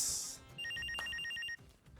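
Telephone ringing indoors in a rapid electronic trill, a short burst of repeated high tones lasting about a second, fairly clear and close with no talk.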